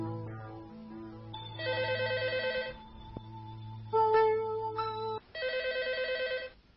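Telephone in an old Uyghur film scene rings in repeated warbling bursts, about three distinct rings separated by short gaps, close and clear over soft background music.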